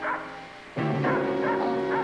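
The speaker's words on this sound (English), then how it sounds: "You're not gonna let that dog in here." A dog barking and whining indoors, one sharp bark followed by a drawn-out whimpering yelp, fairly close, with no talk.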